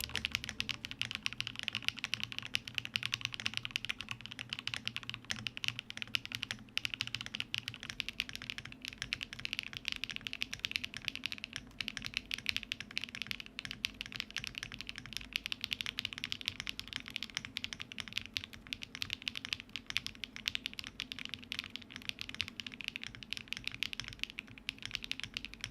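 Steady, continuous typing on a foamless mechanical keyboard fitted with pastel Dalgona keycaps, rapid keystrokes clacking close and evenly throughout with no talking.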